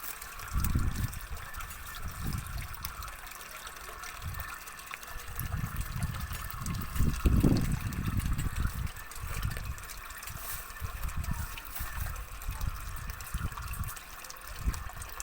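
A cheap Aldi pond pump stirs water, giving a continuous trickling, churning wash with a low humming undertone, steady and moderately faint.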